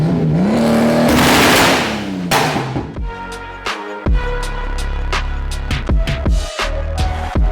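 Subaru Exiga seven-seater with a 400 HP engine package revs hard: a long, loud rising rev into a sustained high-pitched howl, then a sharp cutoff and a series of short, punchy throttle blips with pops and crackles.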